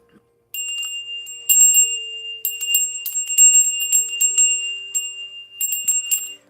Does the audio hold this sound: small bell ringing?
yes